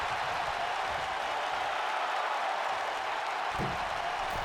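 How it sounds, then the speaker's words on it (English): A video-game wrestling crowd in WWE 2K19 cheers in a continuous, roaring wash that holds at an even level throughout, with a brief thump near the end. "you hear the crowd rise to their feet. You hear the cheers from Riddle finding something in him."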